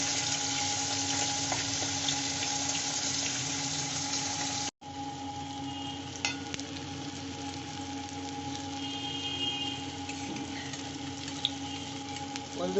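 Large vegetable and chana dal fritters fry in hot oil, giving a steady, close sizzling crackle that carries on throughout with a brief dropout partway through.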